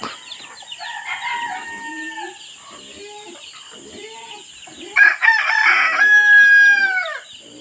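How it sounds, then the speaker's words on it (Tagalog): A rooster crows loudly and close by, a long harmonic call rising then trailing off, preceded by softer clucking from fowl. "Manok."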